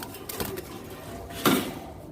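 Caged pet birds give a couple of short, soft calls close by, one near the start and a louder one toward the end, over faint background noise.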